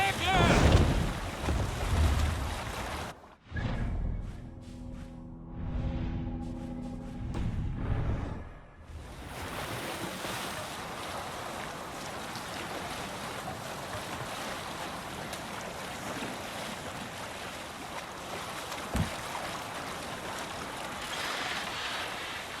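A sailing ship at sea in Assassin's Creed Valhalla, with steady wind and waves washing around the hull, a brief lull with tonal game sounds, then a continuous rushing of water and wind.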